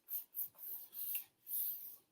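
Paper being smoothed down by hand onto a card front, in several soft, short rubbing strokes that come close and quiet.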